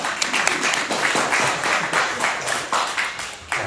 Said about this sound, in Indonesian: Tepuk tangan buat Aldo.